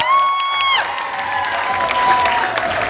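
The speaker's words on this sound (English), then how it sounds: "Can we please give a big round of applause once more?" A crowd at a Nagaland University freshers' results and crowning ceremony bursts into loud cheering and applause, with high shouts and whoops at first that settle into sustained clapping and crowd noise.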